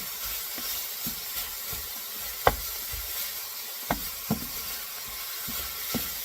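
Italian sausage sizzling in a hot pan as it is stirred, a constant frying hiss broken by a few sharp spatula scrapes and clacks against the pan.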